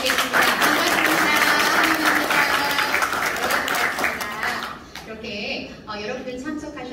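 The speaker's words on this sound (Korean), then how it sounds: "서로를 위한 힘찬 박수 부탁드리겠습니다." A crowd at the launch ceremony of an association in Gwangju claps vigorously for several seconds, then the applause fades and a voice speaks over the thinning room.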